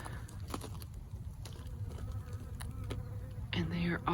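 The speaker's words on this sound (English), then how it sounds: "And they are always covered in bees." Bees buzz around blooming nepeta in a high desert garden, a faint continuous hum with small taps and rustles, then a louder, closer buzz passing near the end, with no talking.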